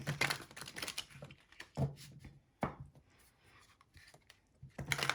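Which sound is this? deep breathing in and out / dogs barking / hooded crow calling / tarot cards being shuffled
tarot cards being shuffled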